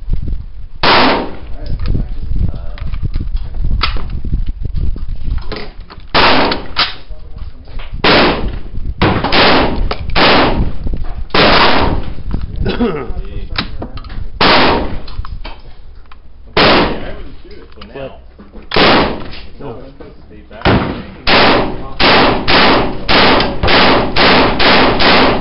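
An SKS rifle fitted with a G9 Magwedge magazine adapter fires loud, close shots in rapid strings separated by short pauses, nearly two dozen cracks in all.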